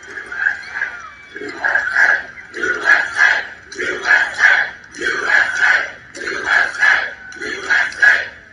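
A large crowd at an outdoor campaign rally in Winston-Salem, North Carolina chants and cheers in a steady repeating rhythm, loud, with each shouted phrase rising and falling about once a second.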